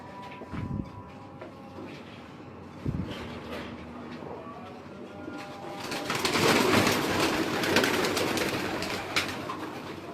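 Pigeons coo and call in a busy outdoor setting, with a few sharp knocks early on and a denser burst of bird noise in the second half.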